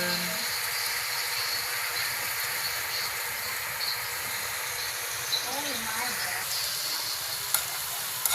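Ground pork for an eggplant omelette fries with a bright, continuous sizzle in a pan, stirred with occasional soft scrapes, while a voice speaks faintly underneath.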